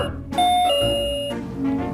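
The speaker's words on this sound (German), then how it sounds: "Okay, ich klingel." A loud two-tone doorbell chime rings in a video game, a bright ding-dong with lingering tones, heard alone with no voices over it.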